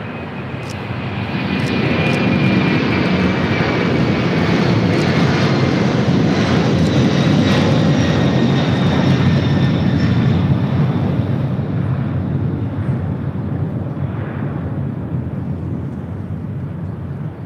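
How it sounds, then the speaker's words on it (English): An Air China Cargo Boeing 747-400 freighter takes off at LAX, its jet engines giving a loud, steady roar that fills the air and slowly fades toward the end. "That was Air China Cargo 8434 taking off to Beijing on a 747-400 freighter."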